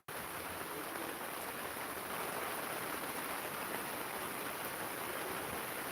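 A steady torrent of rain hammers down at night over a tent and truck where welding was underway, a loud, uniform roar starting abruptly and holding unbroken.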